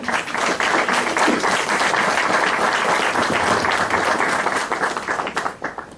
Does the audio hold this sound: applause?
yes